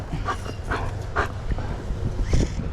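A dog makes a few short, scattered barks and yips at moderate distance inside a building, with irregular gaps between them over low background rumble.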